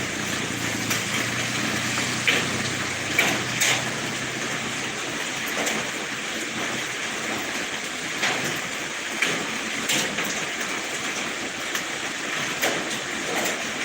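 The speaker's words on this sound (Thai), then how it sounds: "ฝนสิมาแล้วนะครับ" Rain falling during Storm Noru over northeast Thailand: a continuous broad hiss of rainfall with brief louder spatters and drips scattered through it, steady and close, with no voices.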